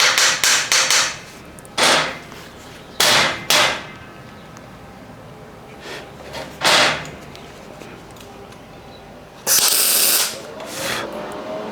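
A hammer strikes steel pipe on a utility trailer ramp, sharp metallic blows in scattered clusters of one to four, loud and near, with quiet gaps between.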